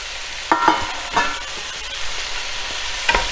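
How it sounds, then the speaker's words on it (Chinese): Potatoes being stir-fried in a wok with scallion, ginger and garlic, a steady sizzle under a few scraping stirs of the spatula, with no talk. "葱姜蒜首先给它爆香一下，当香味儿出来之后，放入土豆，我们放入土豆。"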